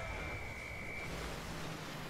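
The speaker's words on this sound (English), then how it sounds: "Where are the other frogs going?" Frogs croaking in a video game, a faint steady chorus of low croaks running throughout, alone without voices.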